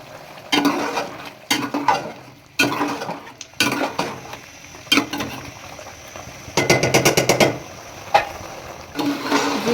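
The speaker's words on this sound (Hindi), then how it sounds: "तो ये चिकन हमारा यहाँ पे भुन रहा है और घी जो है वो निकल आया है यहाँ पे।" Chicken and onion frying in ghee, stirred in a pan with a spoon that scrapes and clanks in bursts over a steady close sizzle.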